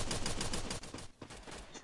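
Rapid automatic gunfire in the battle royale game Free Fire, a dense burst of shots that briefly pauses and then resumes, loud and close.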